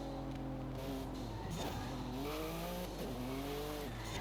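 A supercar in a racing video game brakes hard with drawn-out tire squeals that rise and fall over a constant engine whine, quiet and continuous with no speech.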